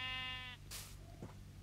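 A sheep in the Minecraft video game gives one short, faint bleat, followed by a brief soft game sound, with no talk.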